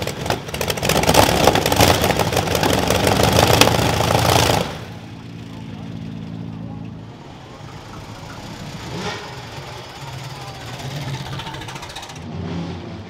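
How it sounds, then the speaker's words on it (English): A loud, rough Liberty V12 aero engine in a racing car at Goodwood Festival of Speed 2023 roars at high revs for a few seconds, then drops to a lower, throbbing idle that rumbles on steadily. "powered by a Liberty V12 aero engine"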